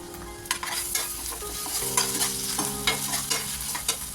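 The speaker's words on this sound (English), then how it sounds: "I'll saute the onions until they turn slightly pink." Onions sautéing with ginger garlic paste in a pan for a cauliflower kofta curry, giving a constant close sizzle broken by repeated scraping stir strokes at a fairly even rhythm, with no talking.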